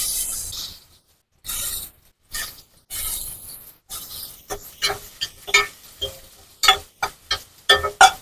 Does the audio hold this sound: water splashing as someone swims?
no